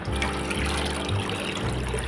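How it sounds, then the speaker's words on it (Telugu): Soaked lentils are washed with water, sloshing and swirling in a container, a continuous low gurgling with trickling splashes, close by. "ఒకసారి నీళ్ళతో కడిగేసుకోవాలండి"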